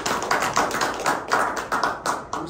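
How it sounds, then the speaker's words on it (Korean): An academic conference audience applauds with steady, even clapping that keeps a fairly regular pulse throughout, moderately loud with no voices. "박수 한번 주시죠."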